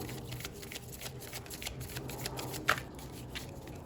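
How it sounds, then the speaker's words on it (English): Oracle cards shuffled by hand, a steady papery riffling and flicking that continues throughout, close and moderately loud, with one sharper snap near the end. "I'm gonna get a oracle card here for you"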